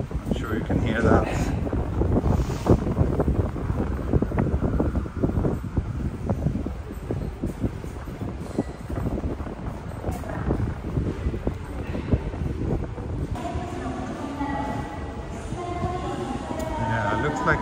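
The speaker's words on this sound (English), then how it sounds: "Very windy." Strong gusting wind buffets the microphone on a morning city walk in Osaka, a loud continuous roar that swells and eases, with traffic murmuring behind it.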